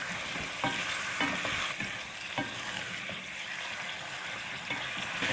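Chicken pieces frying in oil over a medium flame for a chicken karahi, a dense steady sizzle with occasional stirring clatter, close and continuous without any voice.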